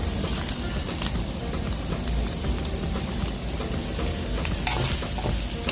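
Spicy field frog being dry stir-fried in a pan, a loud dense sizzle with constant scraping and clattering of a spatula, close up and without talk.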